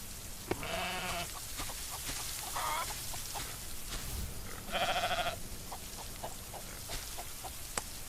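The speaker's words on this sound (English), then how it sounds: "my sheeps cannot be louder if they wanted to be louder" Sheep in a cozy farming video game bleat loudly in a few distinct calls, one early, one softer in the middle and a longer one later, over a quiet backdrop of soft ticking and clicking game sounds.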